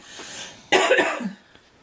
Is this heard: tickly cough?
yes